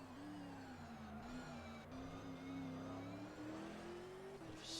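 A V8 Super2 race car at Adelaide holds a steady, droning engine note that slowly climbs in pitch as it accelerates onto its lap, heard from an onboard position with a brief shift near the end.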